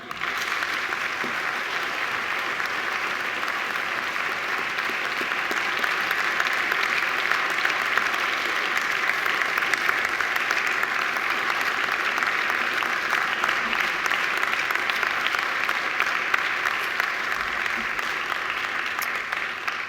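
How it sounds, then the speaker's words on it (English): A graduating class at a Macquarie University ceremony gives family and friends a long, steady round of applause that fills the hall at an even level throughout. "give them, in thanks, a mighty round of applause"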